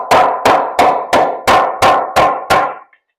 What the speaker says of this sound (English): If you put screws in here and try to hammer this nail like this,